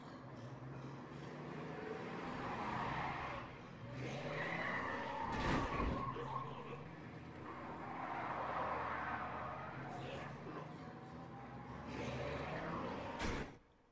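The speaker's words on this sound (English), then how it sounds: "I'm gonna sneak in the vehicle." A vehicle in the video game Dead Island drives along with a steady engine drone, repeated tire skids and squeals, and a few sharp impacts near the end, with no talking.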